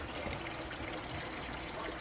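A submersible aquarium pump pushes water into a filter box, producing a soft, steady trickling and gurgling flow heard close and low in level throughout.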